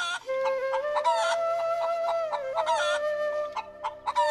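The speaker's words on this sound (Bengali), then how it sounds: "এই মুরগিটা নিয়ে যাও, এই মুরগিটা মাত্র 200 টাকা।" Cartoon chicken at a market, clucking and crowing in a rapid run of bright, close calls with short pauses between them.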